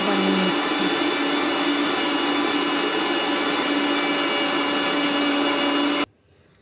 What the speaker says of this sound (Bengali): আমি ঠান্ডা করে ভালো করে মিক্সিতে পেস্ট বানিয়ে নিচ্ছি